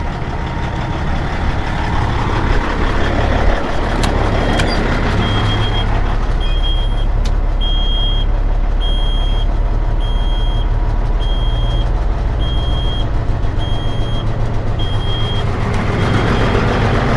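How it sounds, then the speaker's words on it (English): An old truck engine idles loudly and steadily at close range while building air pressure, with a deep continuous rumble and a regular high beeping pattern running through the middle stretch. "So let me idle the truck up here."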